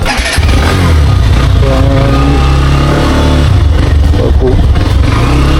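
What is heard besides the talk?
motorcycle riding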